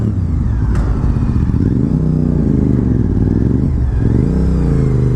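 A Honda RC51 VTR1000 SP2 V-twin sport bike fitted with a Power Commander, heard while riding: a loud, steady low engine drone with shifting revs throughout, no talk.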